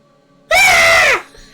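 A voice imitates a monster's low guttural groan that rises into a loud, ear-splitting shriek in a stone passage, one sustained cry of under a second, close and alone.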